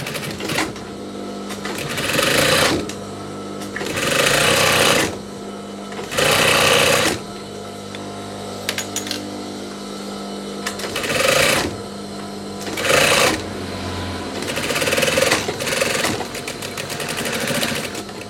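A sewing machine stitches the back panel of a denim jacket in loud, close bursts of rapid whirring, several runs of a second or two each separated by short pauses, with no talk.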